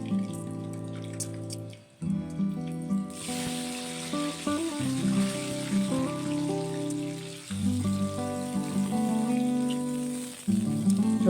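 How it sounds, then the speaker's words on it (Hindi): Potatoes frying in the same hot oil just used for eggs, a steady crackling sizzle with dense popping that runs continuously at close range without any talk. "अब इसी में मैं आलू फ्राई करूंगी।"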